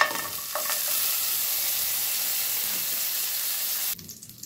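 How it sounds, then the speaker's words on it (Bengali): Soaked cashews and raisins hit hot fat with whole garam masala for Bengali sweet pulao, giving a loud, steady sizzle with stirring that cuts off abruptly near the end. "গোটা গরম মশলা থেকে ভালো গন্ধ আসার পরে এর মধ্যে আমি কাজু কিশমিশ ভিজিয়ে রেখেছিলাম, সেটাকে আমি অ্যাড করে দিচ্ছি।"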